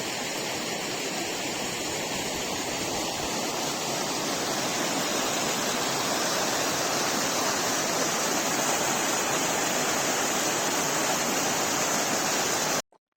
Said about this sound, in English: So we're finally at the last waterfall.